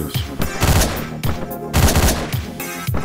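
Bursts of gunfire from the video game Hotline Miami, several loud close shots in quick rapid clusters with short gaps between them, no talking over them.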